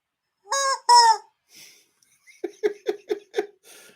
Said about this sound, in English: Yes, it's a chicken.